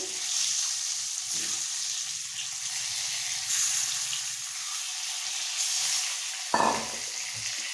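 Cut boiled eggs fry in a pan for egg masala, giving a soft, steady sizzle with faint clinks and a sharper clatter near the end. The cooking noise stays close but fairly quiet throughout.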